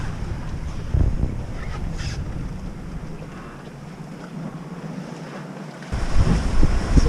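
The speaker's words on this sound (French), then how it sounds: "Ça y est, le vent attendu est là." Strong wind rushes past the microphone aboard a sailboat at sea off Sicily near Taormina, with surf and waves washing around the hull; a steady gusty roar that swells louder near the end.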